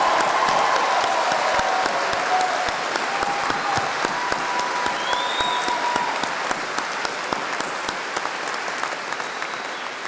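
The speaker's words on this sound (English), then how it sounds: "Let's show them how proud we are of them by giving them a round of applause." A large audience applauds the graduates at the 2024 SUNY Upstate commencement, dense and steady clapping that stays loud and sustained, tapering only slightly toward the end.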